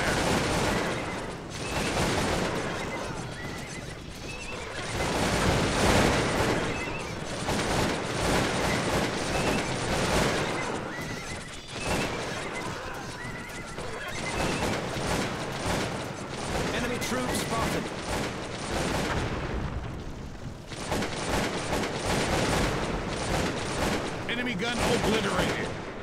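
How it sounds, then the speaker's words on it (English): Cossacks 2: Battle for Europe battlefield under artillery bombardment, with dense continuous rumbling volleys of cannon and musket fire filling the whole stretch, loud and sustained with brief lulls, while a game voice calls out alerts. "We are under enemy artillery fire!"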